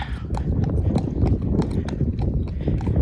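A mare's hooves clip-clop steadily at close range as she walks away from a wagon and out of a yard after an hour of arena work, with a regular, firm beat throughout.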